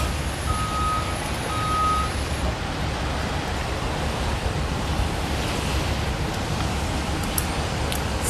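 A bus goes by outdoors beside a park flower bed, its reversing beeper sounding a couple of short high beeps early on over steady wind and engine rumble, with no talk.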